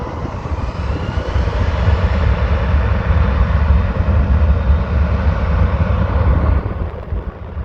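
A jet airliner takes off from runway 18L at Amsterdam airport, a loud, steady roar of engines that holds strong throughout with deep low rumble and broadband noise, no one speaking.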